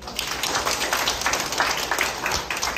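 An audience at a teacher-student art exhibition opening in a district office hall claps together, a fairly faint, even spread of applause lasting a few seconds.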